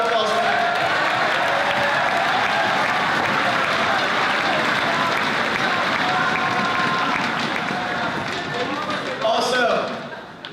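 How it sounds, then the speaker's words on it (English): A school gym crowd at the 2017 Turkey Bowl pep rally gives a big round of applause, dense loud clapping mixed with cheering and crowd voices that holds steady and then tapers near the end. "Big round of applause for Matt."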